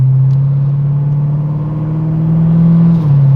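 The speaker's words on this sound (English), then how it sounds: "hopefully, the addition of some tips will help to slow down this drone that you hear" Corvette exhaust drone heard from inside the car, a loud, steady low-pitched hum that holds constant with only a slight dip near the end.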